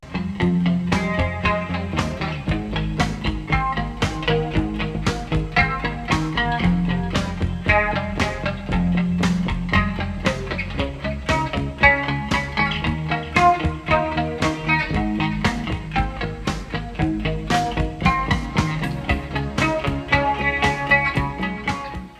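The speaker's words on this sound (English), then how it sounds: "This is a beautiful song, beautiful guitar arrangement" Fingerpicked acoustic guitar plays a flowing arrangement of a song with steady plucked notes and bass lines, loud and close, with no voices.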